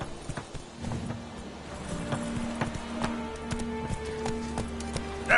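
Hooves of the horse Roach clip-clop at a gallop in a video game, a steady near rhythm under game music tones, with a brief whinny-like sound.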